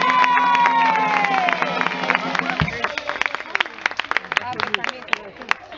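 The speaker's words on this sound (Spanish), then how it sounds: "a la batería un aplauso para Nico." Audience at a school Samaín concert claps and cheers for the drummer, a dense crowd of clapping rising after a sustained musical chord fades, with scattered shouts and voices mixed in.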